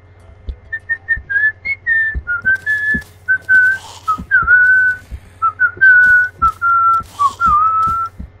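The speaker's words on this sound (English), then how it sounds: "I hope that whistling sounded good on the recording" A person whistling a melodic tune, clear and close, a series of short and sustained notes in a lively rhythm with no voices over it.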